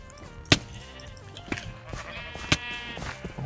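Sheep bleating in the video game Minecraft, several wavering bleats that overlap and repeat amid busy game sounds and sharp clicks, fairly loud and close.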